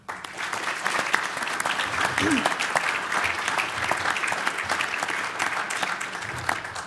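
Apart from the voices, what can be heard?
audience applause at banquet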